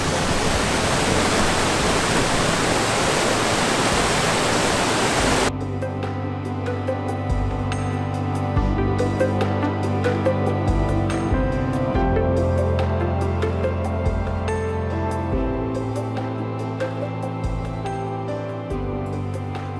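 A fast-flowing mountain stream and waterfall in the Ogwen Valley, Snowdonia, rushes loudly as a steady broadband roar for about five seconds, then cuts abruptly to a different, tonal sound.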